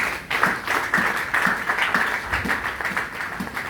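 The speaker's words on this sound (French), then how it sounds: "Acclamons pour cette belle parole." Church congregation applauding, a dense steady wash of many hands clapping with a loosely rhythmic beat, fairly close and continuous throughout.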